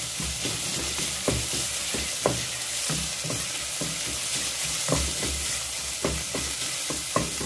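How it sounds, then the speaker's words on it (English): Onions frying in a pan for fried liver make a steady bright sizzle, with a utensil scraping and tapping the pan at irregular intervals as they are stirred. "We need our onions fried"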